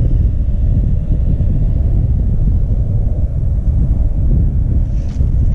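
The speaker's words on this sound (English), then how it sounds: "So we got a little bit of wind over here" Wind buffeting a microphone outdoors during winter trout fishing, a loud, low, continuous rumble with gusty fluctuations and no clear talk over it.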